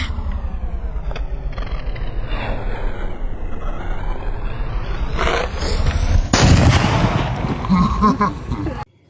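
Firecracker bombs burst outdoors during a walking pilgrimage from Malanka to Chotila, with sharp blasts over steady crowd noise and one louder burst near the end, while people talk throughout.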